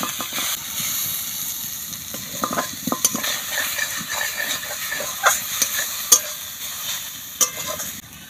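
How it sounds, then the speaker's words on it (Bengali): Grated coconut frying in leftover peanut-frying oil, a light crackling sizzle punctuated by spatula scrapes and taps against the pan, close and irregular with no speech. "নারকেলগুলো একটু ভেজে নেব।"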